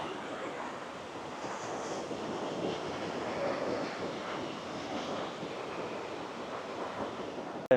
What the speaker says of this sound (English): Yeah, very nice beach.